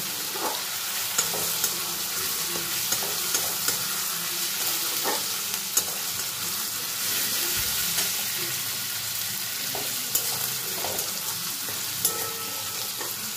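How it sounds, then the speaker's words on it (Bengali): Crushed ginger and garlic fry in hot oil with a constant soft sizzle, broken by occasional sharp clicks and scrapes as the pan is stirred. "রসুন ও আদার কাঁচা গন্ধ চলে যাওয়া পর্যন্ত এটাকে আমি ভাজবো"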